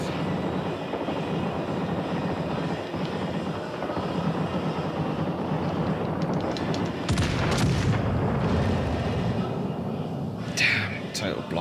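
Secondary guns on a warship in World of Warships: Legends fire under a constant engine rumble, with a few heavier bursts of gunfire standing out in the later part while a person speaks quietly.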